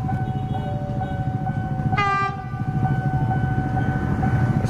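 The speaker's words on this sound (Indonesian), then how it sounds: "Udah keretanya ya, udah mulai melintas." A KLB Inka Galunggung passenger train rumbles steadily and loudly past a level crossing, with a short horn blast partway through over continuous wheel and carriage noise close by.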